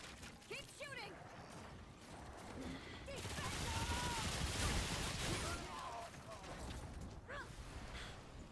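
Gunfire in the video game Remnant 2, a dense rattling burst that swells to a loud sustained volley mid-clip amid mechanical clicks, with people talking over it before and after.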